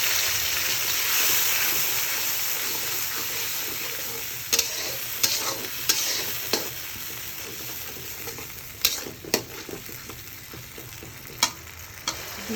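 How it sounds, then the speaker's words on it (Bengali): Blended spice paste fries with browned onions in a pan, a continuous close sizzle punctuated by sharp metallic scrapes and taps of a stirring spoon, with no talking. "পেঁয়াজটা খুব ভালো করে ভাজা হয়ে গেছে, এবার দিয়ে দিব ব্লেন্ড করা মশলা।"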